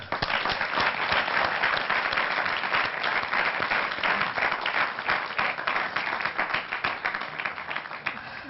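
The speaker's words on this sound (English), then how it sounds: "I think we should all clap for her." Sustained applause from an audience honoring a student, steady dense clapping that stays loud and even throughout with no pauses.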